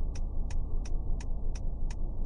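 A steady, evenly spaced electronic ticking of car hazard lights in a Roblox driving game repeats about three times a second over a low engine hum.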